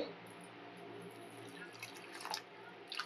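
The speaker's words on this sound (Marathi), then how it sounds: "इथे भाजून घेतलेला जो जवला आहे ना त्याच्यामध्ये मी पाणी घालते" Water is poured over roasted dried shrimp in a bowl for rinsing, a quiet close trickle with a few soft drips and splashes over about three seconds.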